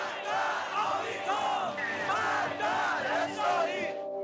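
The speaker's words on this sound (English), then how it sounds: "The streets of Tehran this morning were filled with crowds taking up the cry for Salman Rushdie's life" A large crowd in the streets of Tehran chants in unison, a loud, surging, rhythmic roar of many voices rising and falling in waves throughout.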